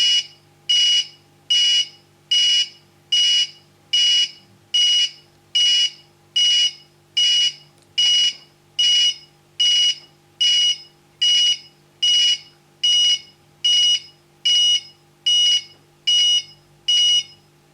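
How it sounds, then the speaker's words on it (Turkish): A burglar alarm beeps in a steady, repeating pattern of loud, piercing tones, each burst separated by a short gap, continuing without pause. "ekranımızda da hırsız var alarmını vermiş oldu. Bu biraz uzun süre e, çalacak."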